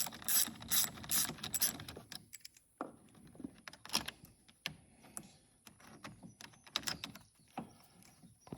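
A ratchet takes off a bolt on the alternator cable of a sixth-generation Camaro, giving quick, quiet bursts of clicking. Several short clicking runs are spread across the clip, with faint metallic handling noises between them.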